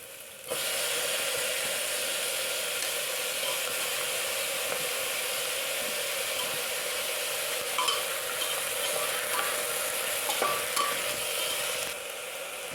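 Chicken curry masala sizzles steadily in a pan as tomato goes in and gets stirred. Loud continuous frying hiss runs throughout, with scattered scraping taps from the spoon.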